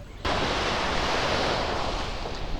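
Surf washes onto a concrete seawall on a beach where boats are hauled up, a steady broadband roar rising suddenly and holding loud and close, with some wind noise on the microphone.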